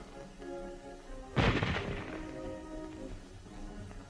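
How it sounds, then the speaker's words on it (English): A single sharp shot from a Japanese Type 99 rifle cracks out once mid-clip and decays into a short rumbling echo over a low background hum, with no speech. "The short bullet is fired by the M99."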